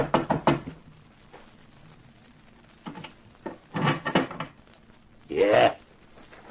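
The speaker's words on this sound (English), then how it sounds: "The waiter rapped on the door." Knocking on an iron door at the top of a narrow staircase in a 1950s radio drama, a few sharp raps in short bursts with quiet gaps between them.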